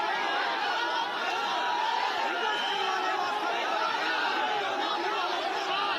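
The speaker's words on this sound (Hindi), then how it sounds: "भारी संख्या में लोगों की भीड़ यहाँ पर इकट्ठा है।" A large crowd gathered at a protest in Kanker over a religious conversion dispute, with police present: steady, close chatter of many voices, with scattered laughter and no pauses.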